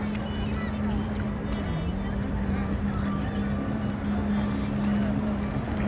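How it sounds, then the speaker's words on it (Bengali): Speedboat running on the sea off Bahrain at sunset, a steady engine drone holding at one level throughout with a constant hum under faint background noise. "আর এখানে স্পিড বোট চলতেছে, ওরা খুব আনন্দ করতেছে।"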